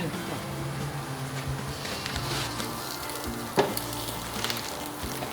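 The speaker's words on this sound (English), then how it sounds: "I love listening to my vegetables sizzle." Vegetables sizzle steadily on a hot grill, a constant crackling hiss with a brief clank partway through, close by and without speech.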